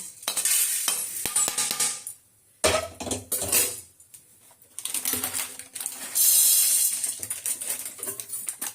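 Whole spices such as pepper, cumin, mustard seeds and fenugreek dry-roast in a pan for homemade chili powder, with scattered rattling and clinking as they are stirred, close and irregular, broken by brief quiet gaps.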